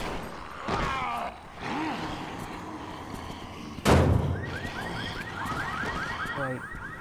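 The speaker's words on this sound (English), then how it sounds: "Car alarms." A car alarm in the video game Resident Evil 6 starts up with a rising, repeating electronic whoop that keeps going steadily. It follows a loud thud and scattered game noises.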